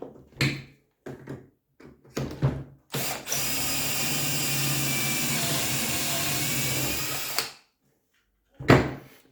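A power drill bores dowel holes in wood through a dowel jig, whining steadily at close range for about four seconds, with scattered knocks and handling clatter of the jig and workpiece before and after.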